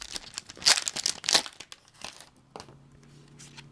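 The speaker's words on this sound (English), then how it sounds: "I might actually have to rip it open like normal." A Japanese Pokémon booster pack being torn open by hand, with close crinkling and ripping bursts of foil wrapper, a few louder tears followed by quieter handling.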